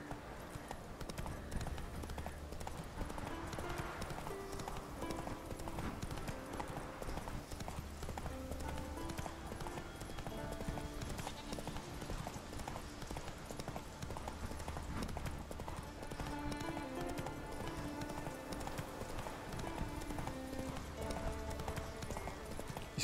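Roach the horse galloping in The Witcher 3, with steady rhythmic hoofbeats over a scenic landscape beneath a continuous layer of game music.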